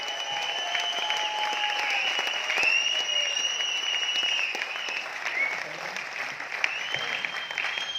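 At a motivational event in Aurangabad, an audience claps vigorously with several long, piercing whistles riding over the sustained applause, and cheering mixed in, continuous for the full stretch.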